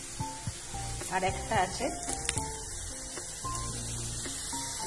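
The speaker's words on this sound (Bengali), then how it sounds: "ভালো করে একটু ভাজতে হবে মশলাটা, নাহলে গন্ধ হবে।" Spices sizzle and fry in hot oil for a Bengali mustard fish curry, with steady crackling, some stirring and clinks of utensils, and someone speaks briefly.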